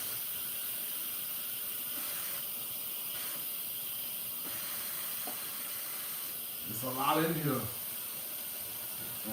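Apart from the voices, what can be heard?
steam being released from a pot of turnip greens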